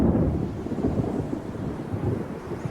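A late spring thunderstorm rumbles with deep, continuous thunder over steady rain, a dense low roar that fills the whole stretch without a break.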